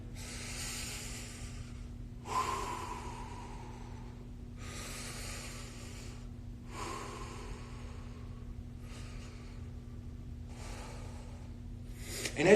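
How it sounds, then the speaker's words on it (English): Slow, deep belly breaths in a breathing exercise at an arthritis foundation session, six long airy inhales and exhales spaced evenly over a low steady hum, close and fairly soft. "let's take some big breaths through our stomach"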